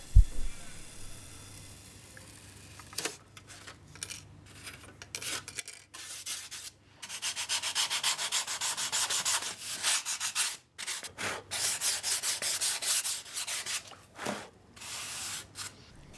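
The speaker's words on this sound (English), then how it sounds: "my hot wire cutter clamped into a bench vise and sitting vertically, and I just run around the template to round off the end" A hot wire cutter clamped vertically in a bench vise rounds foam wingtips along a Clark Y template for a Fokker Dr 1 model wing, producing intermittent rubbing, rasping bursts of varying length separated by short pauses, close and fairly loud.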